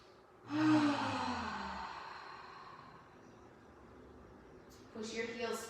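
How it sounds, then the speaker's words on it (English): A slow, deep breath out through the mouth during a leg-focused yoga session, a long breathy sigh that fades away gradually, followed by a softer breath near the end. "deep inhale through your nose, exhale through your mouth"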